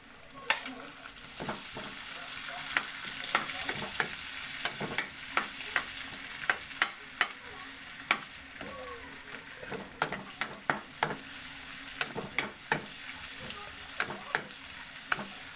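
Garlic and onion sautéing in a pan, a steady soft sizzle with frequent clinks of a utensil stirring against the metal, the scraping growing busier toward the end.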